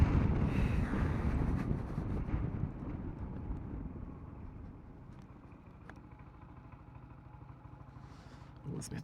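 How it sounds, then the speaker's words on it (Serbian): Wind buffets the microphone in a low, steady rumble while a Sym Joyride 300 scooter is ridden on the road from Golubac Fortress to Belgrade. It is loudest early on, eases midway and swells again at the end. "samo da nema ovog vetra. Vetar me ubi."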